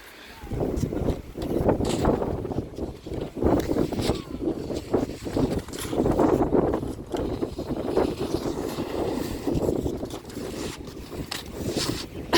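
Gusty cold wind at Szklarska Poręba in the Polish mountains buffets the microphone in steady rough bursts for the whole stretch, loud and close, with no clear voices.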